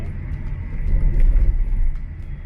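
A car driving along a rural road near Ban Huai Krot, Nakhon Pathom, in the morning: steady low engine and tyre rumble heard from inside, swelling slightly midway, with no talk.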